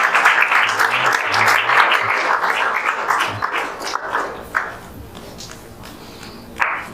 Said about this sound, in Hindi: ताली बजाते रहिए भाई